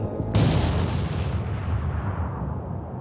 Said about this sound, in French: la détonation de la bombe dégage une énergie de 21 kilotonnes de TNT